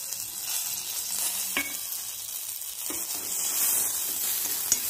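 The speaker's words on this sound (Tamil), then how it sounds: "கருவேப்பிலையும் நல்லா ஃப்ரை ஆகிருக்கும்." Curry leaves and golden urad dal frying in oil in a pan for ginger thogayal, a steady close sizzle with a few sharp spatula scrapes and stirs, no voices.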